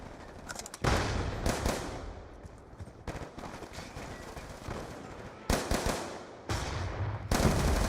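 Rapid tap-fired gunshots in a Black Ops video game, loud sharp bursts in quick clusters separated by short gaps, with a busy mix of gunfire crackling through the match.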